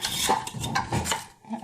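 Frying fish is turned and stirred in a pan. A utensil scrapes and clinks against the metal in quick, close strokes over a constant sizzle.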